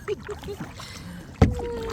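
Kayak paddle strokes dip into the water, with a few soft splashes and one sharper splash near the end against a faint background.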